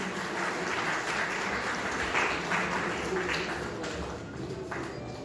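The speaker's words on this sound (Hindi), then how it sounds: "जोरदार तालियां स्वागत, अभिनंदन" Sustained audience clapping at a railway week award ceremony, dense applause from a crowd that swells and fades slightly over a few seconds.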